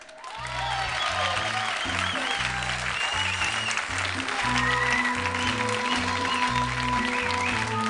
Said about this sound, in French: Attention, messieurs dames, je vous demande d'applaudir